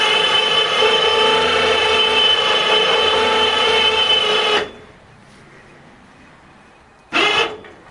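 A winch hauls junk metal up on its cable, giving a loud, steady mechanical whine and grind that runs for several seconds, stops, then starts again briefly near the end.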